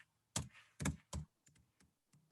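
Typing on a computer keyboard, a few close, distinct key thunks in quick succession followed by lighter, fainter clicks.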